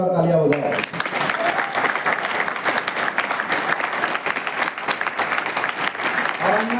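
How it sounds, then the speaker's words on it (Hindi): Vigorous, sustained applause fills a lecture hall as the audience claps for a guest, with a voice heard briefly at the very start and end. "जोरदार तालियां हो जाए"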